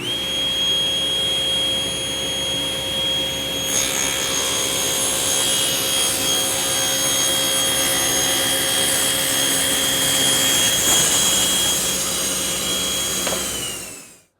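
A power saw cuts wood panels to length in a woodworking shop for a bathroom vanity build, a loud, steady whining drone running unbroken for about fourteen seconds before spinning down at the end.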